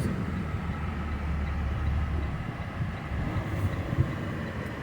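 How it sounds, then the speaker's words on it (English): A low, steady rumble of a train rolling by at a distance, with wind buffeting the microphone and no voices. "Yeah, there is a train moving right there."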